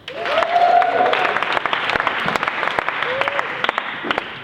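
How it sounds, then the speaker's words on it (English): Loud applause from a church conference audience for Lindsay fills the whole stretch, dense and steady, with a few whistles cutting through near the start and again later. "Give Lindsay a big round of applause."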